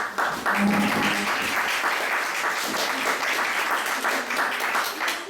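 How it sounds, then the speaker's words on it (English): An audience claps continuously at a prize-giving, a steady dense applause lasting the whole stretch with a brief voice near the start. "can everybody give him a clap?"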